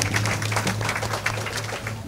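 An audience applauds the guitarists on stage at a fado gala, a continuous patter of clapping over a low sustained hum.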